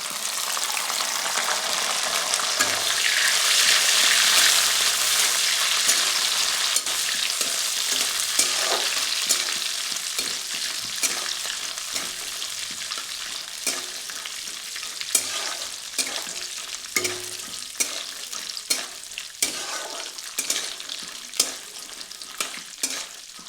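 Cashews and raisins frying in oil for Basanti pulao, a steady loud sizzle with frequent sharp scrapes and clinks of stirring that grow more spaced out over time, no voices.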